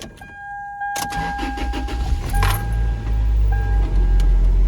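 An older truck's engine cranks and catches after an oil change, preceded by a brief jingle of keys, then settles into a steady, loud low idle that rumbles on close by with no talking.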